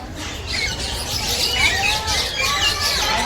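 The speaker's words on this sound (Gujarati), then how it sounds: "અમે આ પોપટ જોવા આવ્યા છે બરાબર" Parrot calls at Kankaria zoo in Ahmedabad, with bright chirps and tweets repeating over a steady background of visitor crowd noise.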